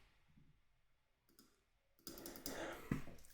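A computer mouse gives a couple of faint, quiet clicks, followed by a short burst of louder clicking and tapping noise near the end.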